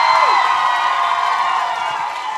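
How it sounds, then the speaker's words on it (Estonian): An audience at a school contest event cheers and claps, a continuous bright crowd roar with whoops that holds steady and loud throughout. "Ja tervitame suure aplausiga"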